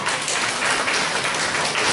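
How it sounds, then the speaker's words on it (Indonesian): Sustained applause from an audience at a presentation, dense steady clapping filling the whole stretch without pause. "tepuk tangan lebih meriah."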